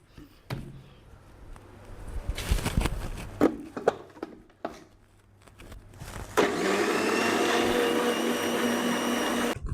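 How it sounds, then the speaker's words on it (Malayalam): An electric mixer grinder blends cumin seeds and a little turmeric powder with water, a steady loud whirring motor drone that starts partway through, after several brief knocks and clatters. "കുറച്ച് മാത്രം മഞ്ഞൾപ്പൊടി കുറച്ച് വെള്ളവും കൂടി വെച്ച് നമുക്കൊന്ന് അരച്ചെടുക്കാം"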